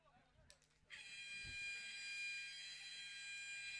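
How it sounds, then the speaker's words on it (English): Loud sustained electronic buzzer sounding at the end of a half in a men's rugby match between Uzbekistan and Bangladesh in Jakarta, holding steady after a brief stretch of quiet crowd murmur. "Right on the buzzer here."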